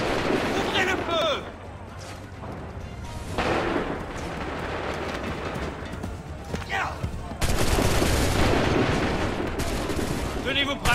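Musket volleys in Assassin's Creed III roar as dense, sustained bursts of gunfire, with a loud crackling volley near the end and shouted commands mixed in throughout.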